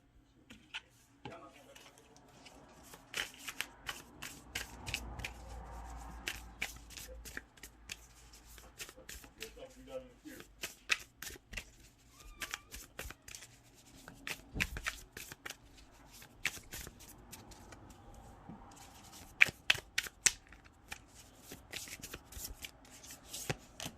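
Tarot cards are shuffled by hand in a long sequence of crisp riffles and soft slides, close and fairly quiet, with brief pauses, light handling noises and a low voice now and then.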